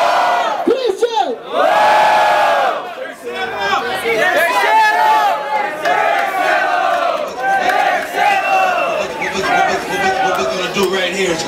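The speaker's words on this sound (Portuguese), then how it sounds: "Barulho pras rimas do Christian!" Loud crowd roaring and chanting at a Brazilian freestyle rap battle in Barueri, São Paulo, a dense continuous wall of shouting voices and cheers rising together throughout, close and overwhelming.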